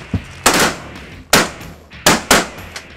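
Shotgun blasts while hunting birds outdoors: four loud, sharp reports with decaying tails, irregularly spaced over a few seconds, preceded by a fainter pop.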